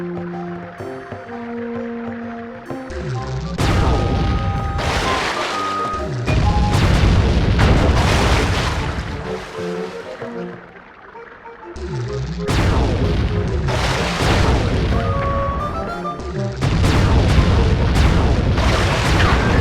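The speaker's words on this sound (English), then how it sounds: "No matter how many cannons they bring to bear, we will bear it." Cannon fire in the Sly 3 video game during a sea battle, heavy booming blasts repeating in loud waves over a musical score, with speech mixed in.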